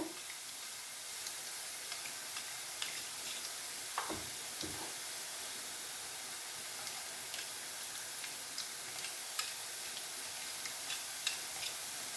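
Boondi batter for laddu frying in hot oil makes a soft, steady sizzle with faint scattered crackles and ticks, fairly quiet and continuous with no voices.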